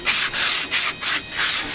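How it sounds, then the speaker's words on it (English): Sandpaper worked by hand over rusty metal, five quick, even rasping strokes back and forth, close to the microphone and with no talk. "it looks like he's sanding away the old first gen here"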